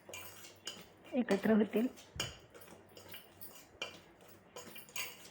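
A spoon mixes spices into flour in a bowl, giving a cluster of metallic clinks and scrapes against the bowl, close up, with someone talking quietly around them.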